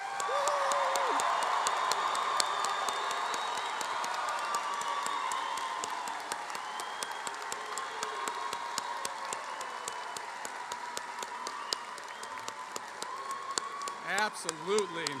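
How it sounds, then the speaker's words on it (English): A large crowd at a university commencement ceremony claps and cheers for the graduates, a sustained, fairly distant wash of applause with scattered whoops, fading slightly toward the end. "So I ask you the loudest round of applause for the graduates on the count of 3."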